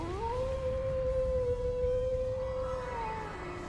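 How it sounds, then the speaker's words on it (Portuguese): Wolf howl in the video game The Legend of Heroes: Trails into Reverie, one long, loud, sustained tone that holds steady for about three seconds and then slides downward at the end, heard alone over a rumbling background. "Did that howl cancel out the artifact's power?"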